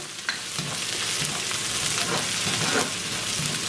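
Garlic, curry leaves and small green chilies fry in hot oil in a pan for a Sri Lankan cabbage dal stir-fry, giving a steady, close sizzle with a few light stirring scrapes and no talking.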